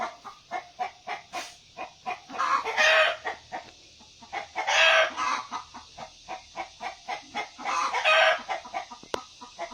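Hens clucking around where eggs are being laid, with a rooster crowing, close and lively: steady rhythmic clucks throughout, broken by three louder drawn-out calls, with no talk.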